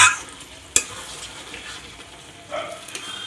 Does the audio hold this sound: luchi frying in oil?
yes